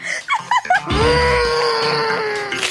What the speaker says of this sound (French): Arrête de crier.